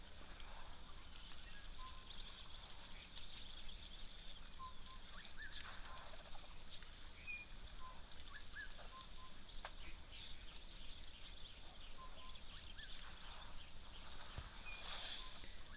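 Assorted birds call and chirp at a waterhole across a steady outdoor ambience, with scattered short calls near and far and occasional louder notes.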